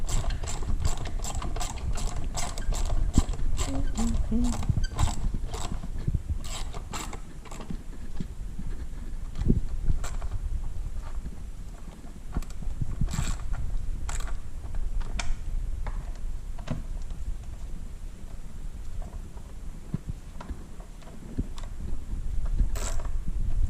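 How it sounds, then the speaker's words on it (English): A 10mm ratchet tightens an EGR plate bolt on a Honda Insight, giving a steady run of rapid, close pawl clicks that continues for about twenty-four seconds with small pauses and no talking. "we'll go ahead and tighten that down with our 10mm."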